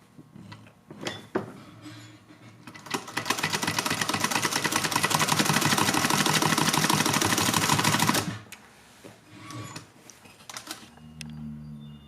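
A sewing machine stitches around a cloth face mask in one long, loud, rapid mechanical run of about five seconds, preceded and followed by handling clicks and fabric rustle.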